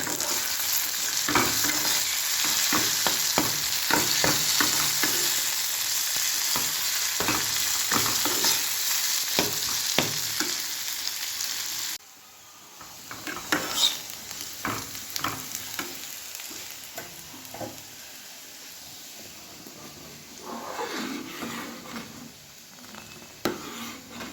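Potatoes fry in a pan with a loud, steady sizzle and repeated stirring scrapes; halfway through, the hiss suddenly drops, leaving quieter intermittent spatula clatter and crackle.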